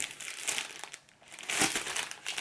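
Paper packaging crinkles and rustles in close, quiet bursts, easing off briefly midway before a louder crumpling flurry, with no talking.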